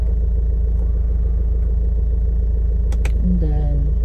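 Car being driven on a short errand, a steady low engine and road rumble that holds constant throughout, with a brief tone and faint voice near the end.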